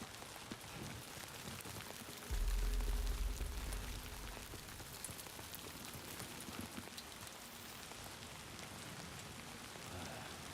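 Rain falls steadily in a video game scene, a soft, even hiss of drops with a brief low rumble partway through.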